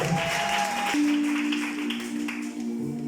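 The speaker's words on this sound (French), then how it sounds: "J'acclame fort Jésus. Acclame fort Jésus." A church congregation applauds and cheers for Jesus during a sermon, a steady wash of clapping and crowd noise over sustained musical tones, continuing for about three seconds.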